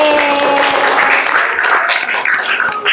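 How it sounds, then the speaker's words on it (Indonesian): Applause from a class of students in a school classroom, a dense continuous patter of many hands lasting about three seconds at steady loudness. "tepuk tangan untuk Kire."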